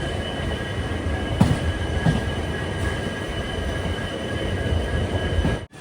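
A passenger train with banker locomotives rolls downhill near Castle Rock, a loud steady rumble of wheels on rails with high metallic squeals and a few clanks, close by.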